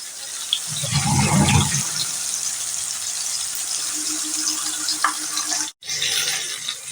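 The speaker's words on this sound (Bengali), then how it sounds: "মাছের মাথাটা আগে ভালো করে ভাজা করে নিন।" A fish head fries in hot oil over medium heat, giving a close, steady hiss with a louder bubbling burst early on and a brief cut near the end, no talking.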